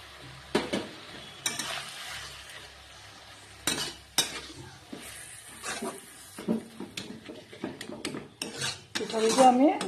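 Thin rice-flour batter goes into a pan of cooking radish greens, with soft sizzling under repeated scraping and stirring strokes of a utensil against the pan, close and moderately loud, with no talking.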